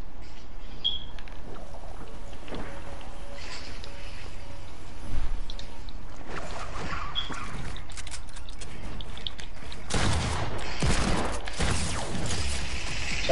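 Video game gunfire crackles through a busy, noisy battle mix, with sharp bursts near the middle and a denser cluster of shots toward the end.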